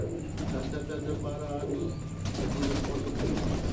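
A pigeon coos nearby in a few low, throaty notes while a person talks over it.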